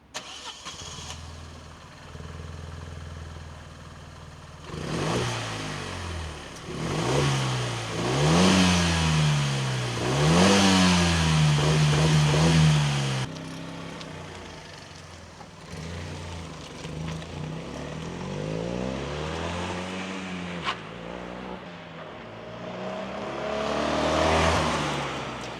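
A 2017 Fiat 500 with a 0.9 TwinAir two-cylinder turbocharged 85 hp engine pulls along a road, its throbbing drone rising and falling through several revving accelerations and gear changes, heard steadily without talk.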